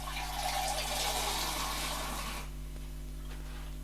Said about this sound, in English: Now we're gonna get some water.